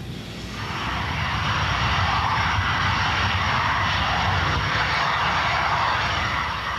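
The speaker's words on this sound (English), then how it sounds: "Their Jaguar, XX-145, begins to roll along the long Boscombe Down runway for takeoff on the low-level exercise." SEPECAT Jaguar jet XX-145 on the long Boscombe Down runway, rolling for takeoff on a low-level exercise; a loud, steady jet roar swells up in the first second and holds broad and constant, with no voices.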